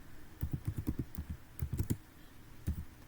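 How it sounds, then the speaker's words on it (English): Quiet clicking of keys on a computer keyboard, typed in quick irregular bursts with short pauses between runs, close and soft with no talking. "start by typing like this one, or typing words of this nature."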